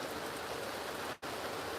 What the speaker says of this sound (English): it's pouring rain, and the rain noise makes me have to go pee.